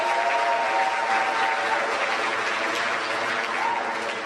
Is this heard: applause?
yes